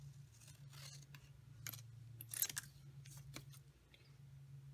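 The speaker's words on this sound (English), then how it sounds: "I'm just going to take my scissors and cut along the Hello Fall." Scissors snip through stamped craft paper in faint, scattered crisp cuts and rustles, close but quiet over a steady low hum.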